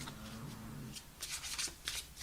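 Tarot cards are shuffled close by: soft riffling and sliding at first, then several crisp, papery bursts of shuffling in quick succession.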